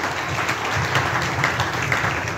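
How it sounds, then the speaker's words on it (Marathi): A Sunday church congregation claps loudly in a dense, continuous round of applause, steady throughout with no clear gaps. "आता जोरात टाळ्या वाजवून परमेश्वराला धन्यवाद द्या."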